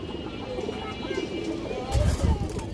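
Indian high-flyer Kaldom pigeons coo softly against a busy background, with a louder, fuller burst of low cooing near the end.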